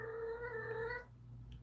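A tomcat lets out a loud, drawn-out meow with clear harmonics that lasts about a second, then breaks off into quieter room noise.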